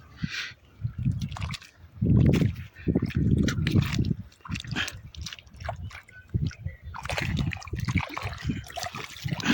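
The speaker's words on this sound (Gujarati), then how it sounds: "આપણે વાળીએ પાણી જો પાણી ચાલુ છે" Water gurgling and trickling nearby through an irrigation channel in uneven surges, with splashy bursts and a steady flowing wash.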